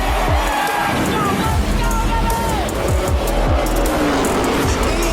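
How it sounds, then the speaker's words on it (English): Race cars at Carteret County Speedway, a dirt track hosting the 2025 Carteret Clash, rumble and roar continuously as several pass by in quick succession, with crowd noise and babble underneath. "400 race cars."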